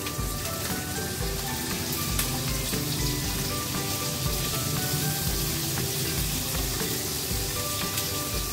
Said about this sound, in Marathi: मी ना पनीर फ्राय करणार आहे.